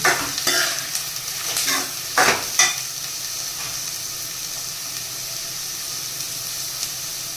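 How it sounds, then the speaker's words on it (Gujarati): Onions frying in a pan for a country chicken curry are stirred with a few scraping strokes early on, over a steady close sizzle that carries on alone after the stirring stops. "પ્યાસને થોડું મિક્સ કરી નાખીએ આપણે।"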